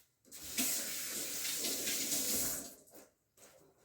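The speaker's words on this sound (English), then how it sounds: "I'm going to wash my hands again." Tap water runs steadily into a kitchen sink for about two and a half seconds while hands are washed during sauerkraut making, then stops and briefly restarts near the end, close and fairly loud, with no talking.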